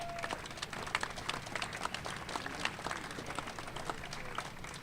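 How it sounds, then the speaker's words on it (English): Outdoor audience applause at a Brooklyn street co-naming ceremony honoring author Pete Hamill, a steady patter of scattered hand claps, fairly distant and faint, continuing for several seconds without a break. "give the staff people an applause"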